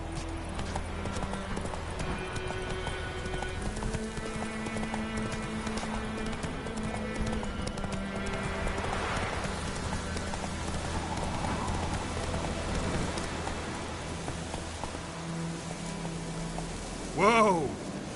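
Roach, a horse in The Witcher 3, gallops in steady clip-clop hoofbeats over a background of game music, ending with a brief louder burst near the end.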